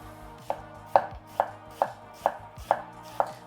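A knife chops a vegetable into small cubes on a board, seven sharp evenly spaced cuts, close and clear over quiet background hum.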